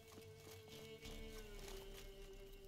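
Rhythmic hoofbeats of a galloping horse in The Witcher 3: Wild Hunt clatter steadily over a tonal hum and background music, moderately quiet, with no talking.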